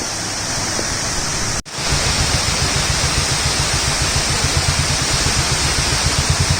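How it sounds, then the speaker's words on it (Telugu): A large waterfall roars beside the Pollachi–Valparai mountain road, a dense, loud, unbroken rush of water that briefly cuts out and then returns with a faint rhythmic thumping underneath. "ఇక్కడ చాలా పెద్ద వాటర్ ఫాల్ కనిపించింది"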